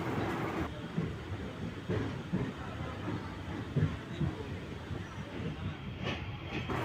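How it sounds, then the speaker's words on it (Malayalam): Kayamkulam–Ernakulam express train standing at Tripunithura railway station, with a steady low rumble of the train and platform ambience filling the background and faint voices occasionally mixed in. "ഇപ്പോൾ തൃപ്പൂണിത്തുറ റെയിൽവേ സ്റ്റേഷനിൽ എത്തിയിരിക്കുക കേട്ടോ നമ്മുടെ വണ്ടി"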